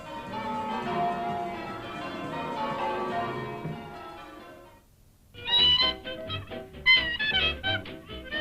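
Church tower bells ring in a set of five, running from treble down to the eleven-hundredweight tenor that also serves as the clock bell. A sustained ringing tone gives way to a brief hush, then a run of separate strikes.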